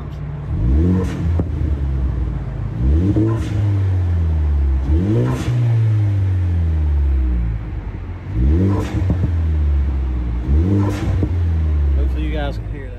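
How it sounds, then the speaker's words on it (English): A Ford Focus ST with a CP-E exhale kit and Tial blow-off valve, heard from outside the car as the engine revs loudly four or five times, each rev rising and then falling back to idle with a whoosh. "We'll rev it up a few times."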